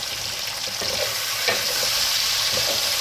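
Chicken pieces frying in a pan for a kachnar gosht curry, a dense, even sizzle holding steady throughout with faint scrapes of stirring underneath.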